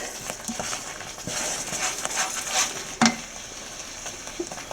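Pork ribs cooking with two spoons of chili powder and garam masala, stirred in a pan over a low flame, giving a soft, steady sizzle with scattered scraping clinks and one sharper knock of the spoon against the pan.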